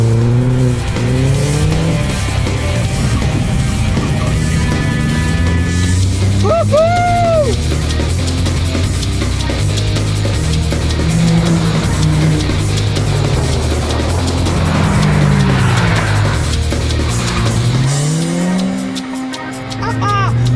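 Renault Clio Gordini and Ford Fiesta race cars roar on a circuit, engines revving loudly and continuously with shifting pitch, tyres squealing briefly in corners, all close and dominant throughout.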